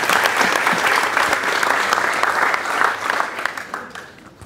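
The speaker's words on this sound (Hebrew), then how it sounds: "מגיע לו כפיים." Audience applause at a Hebrew-language religious lecture in Pardes Hanna, a dense, steady clapping from a crowd that stays loud throughout and tapers slightly at the end.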